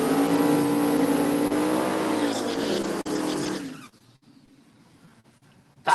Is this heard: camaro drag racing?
yes